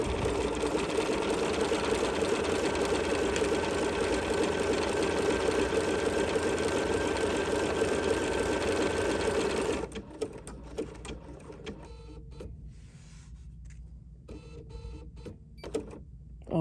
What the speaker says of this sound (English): And I was able to just move that and see exactly where that needle is gonna go.